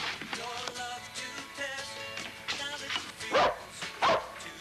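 A dog barks a few times indoors, its short yips and woofs mixed with people talking and background music.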